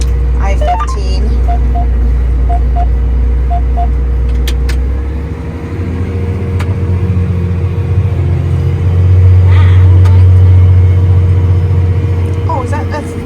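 Freeway traffic on I-15 rumbles beside an open field at night, a steady low roar of passing cars and trucks that swells as a heavier vehicle goes by, with a tractor engine idling nearby.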